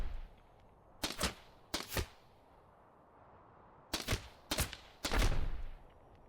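Gunfire in the robot strategy game Heart of the Machine comes as five sharp bursts in two groups, the last one longer, loud against a quiet background.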